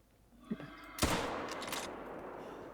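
Gunfire in the hunting video game theHunter: Call of the Wild: a few faint clicks, then one sharp, loud shot that decays into a long, noisy rumbling tail, with no talk.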